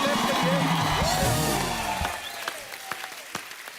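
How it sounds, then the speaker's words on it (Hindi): A studio audience on a comedy talk show applauds the players, with a dense clapping bed under a voice and music at the start, thinning to scattered claps at the end. "जोरदार तालियां होनी चाहिए हमारे सभी प्लेयर्स के लिए।"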